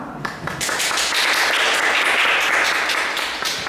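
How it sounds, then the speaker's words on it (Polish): Applause from an audience at a conference welcoming a guest swells quickly after a brief pause and continues as a full, even wash of clapping before easing slightly at the end. "Wielkie brawa."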